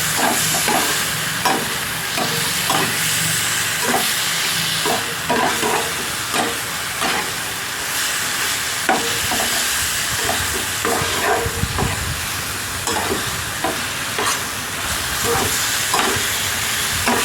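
Chicken frying with arum leaves in a pan, with a steady sizzle and hiss under a rhythmic series of scraping, stirring strokes, close and continuous with no talking.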